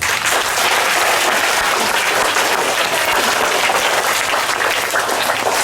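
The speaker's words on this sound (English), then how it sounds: "requires a loud applause" Dense, continuous applause from a crowd at a school assembly, loud and even throughout with no pauses.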